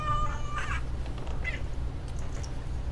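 Short cat meows from a pet cat sound near the start and again around the middle, fading into a quiet room with a constant low hum and no voices.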